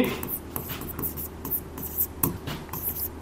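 Pen scratching and tapping across paper as chemistry notes are written during a Class 11 lesson on gas density and the mole concept, short strokes in an irregular rhythm, close and fairly quiet with no talk.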